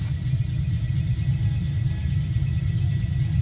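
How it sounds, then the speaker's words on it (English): A truck rumbles along in the survival game Eco, a steady mid-pitched engine drone with low rumble holding evenly throughout, no voices. "Why don't we pull the truck up here?"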